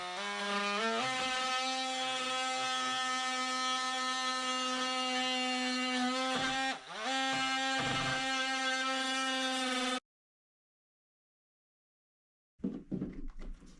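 An oscillating multi-tool cuts into drywall, giving a steady, loud buzzing whine for about ten seconds with a brief dip partway through, then falls silent before a short rustle near the end.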